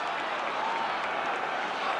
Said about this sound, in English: A tremendous, deafening roar of encouragement from the crowd.